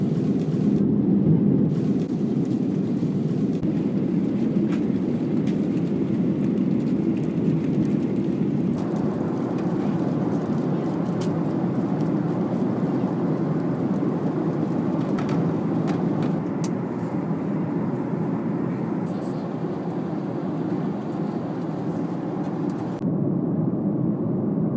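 Steady, even roar inside a Garuda Indonesia airliner cabin in flight on the Jakarta to Yogyakarta route, a broad low rumble holding unchanged for the whole stretch with no talk.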